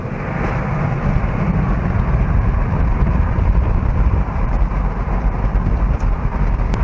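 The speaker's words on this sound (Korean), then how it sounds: "일단 맛배기로 한 반쯤만 펴보도록 하겠습니다." Loud, steady wind roar and road rumble inside a Mini Cooper S convertible with its roof half open, cruising at about 80 km/h on a highway, constant and close throughout with no talk.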